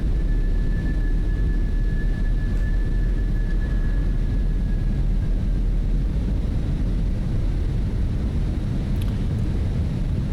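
Fenix A320 airliner in Microsoft Flight Simulator on approach with the landing gear extending, a steady loud roar of airflow and engine noise filling the cockpit, with a faint whine at the start and no distinct mechanical clunks standing out.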